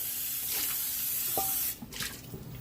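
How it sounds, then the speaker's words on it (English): Tap water runs into a stainless steel non-stick pan being rinsed at the sink, a steady, close hiss and splash that breaks off partway through into a few scattered drips and clatters. "So I got a stainless steel non-stick pan right here. I'm going to rinse it out."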